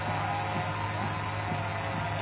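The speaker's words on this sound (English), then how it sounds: "The noise you hear above is a drone." A drone hovering overhead at a night protest amid police and National Guard, a steady droning hum that fills the whole stretch without pause, loud and continuous with a faint pulsing rhythm.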